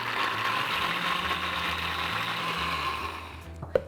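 A blender grinds soaked soybeans with water in a steady, whirring mechanical drone that runs for several seconds, then slows and stops with a brief clunk.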